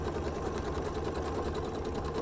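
Sewing machine stitching steadily during free motion quilting of stars, a fast even whirring hum that runs unbroken and fairly quiet throughout.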